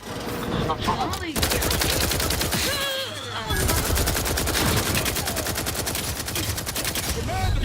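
Loud, rapid machine-gun bursts hammer away almost continuously in The Outer Worlds 2, close fusillades of enemy fire with a short lull midway.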